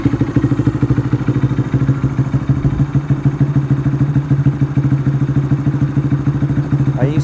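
Warm 2019 Honda Grom motorcycle with a Vance and Hines full exhaust and an aftermarket ECU idling after startup, a loud, deep, burbly, steady thrum with fast even pulses throughout.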